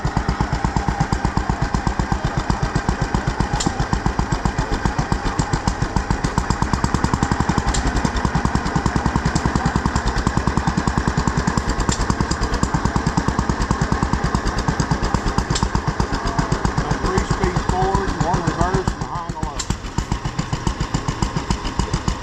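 Old gas engine running at a county fair display, a steady rapid chugging thump that stays loud and close throughout, with a brief change in tone near the end.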